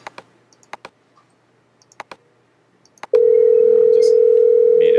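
An office desk phone gives a few scattered button clicks, then a loud, steady continuous dial tone starts and holds to the end.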